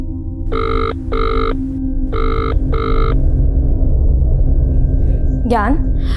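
A telephone bell rings unanswered in four short buzzing bursts over a low steady hum, then goes quiet while a brief voice sounds near the end.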